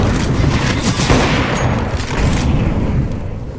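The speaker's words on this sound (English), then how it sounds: "Flashbang." A flashbang grenade goes off in a video game, a loud, sustained burst of explosive noise and crackling gunfire filling the whole moment with no pause.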